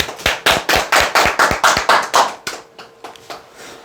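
About a dozen sharp, evenly spaced hand claps ring out in a steady rhythm, then trail off into a few softer, scattered claps.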